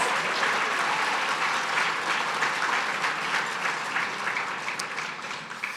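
A large gala dinner crowd applauds the evening's honorees with steady, dense clapping that stays loud throughout and fades slightly at the end, with no voices over it.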